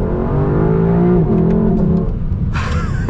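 A Lexus LC 500 with its V8 engine revving hard in second gear, a loud, steady high-rpm roar that holds near the limiter, then drops as the revs fall, close and alone.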